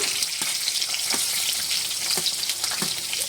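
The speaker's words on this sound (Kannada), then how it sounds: "ಗೋಲ್ಡನ್ ಬ್ರೌನ್ ಬರೋವರೆಗೂ ಫ್ರೈ ಮಾಡ್ಕೊಳ್ಳೋಣ" Onions fry in two teaspoons of hot oil for a Konkani-style mushroom masala, giving a continuous close sizzling crackle with scattered pops and stirring clicks, without talk.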